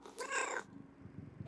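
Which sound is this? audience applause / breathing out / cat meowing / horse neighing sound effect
cat meowing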